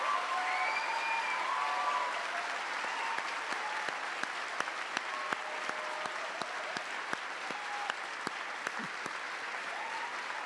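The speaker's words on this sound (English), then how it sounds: "Please join me in a round of applause." Audience applause at a Class Day awards ceremony: sustained, dense clapping from a large crowd, steady throughout with a few sharper individual claps standing out, and faint cheers early on.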